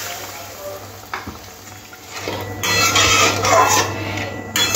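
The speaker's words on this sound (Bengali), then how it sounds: "মশলা ধোয়া জলটা দিয়ে দিলাম।" Water poured into hot mustard-poppy masala for a pabda fish curry hisses into a loud, bubbling sizzle that swells midway and keeps crackling, after a few quieter stirring and scraping noises at the start.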